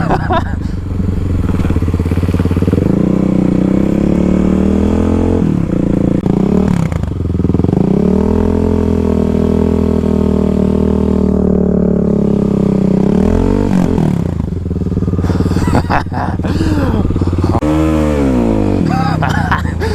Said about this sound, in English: Ice drifting on the KLX, let's go.